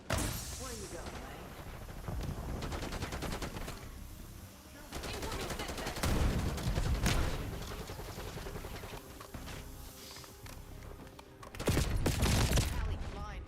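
Shotgun gunfire in the OPS video game, loud bursts of rapid shots in dense clusters with brief pauses between, mixed with other game sounds and combat voices.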